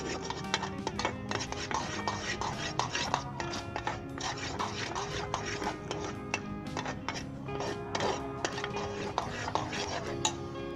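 Nuts being stirred into browned jaggery in a pan for gachak, with a spoon clattering and scraping against the metal in quick, irregular taps, fairly close and continuous.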